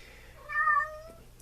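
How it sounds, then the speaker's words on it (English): A single indoor cat meow, drawn out and rising then falling, close and clear over a faint low hum, with no talking. "And that's the cat."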